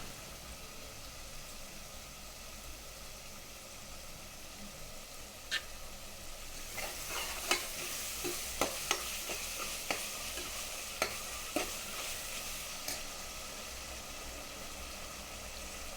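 Chicken biryani masala sizzling in a pan under a steady background hum, with a run of scraping, knocking stirring strokes in the middle that then fade back to sizzle.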